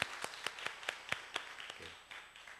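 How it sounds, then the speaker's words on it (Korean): Audience applause at a church service, a sparse run of distinct hand claps, about four or five per second, close and moderately loud, thinning out toward the end. "박수하겠습니다"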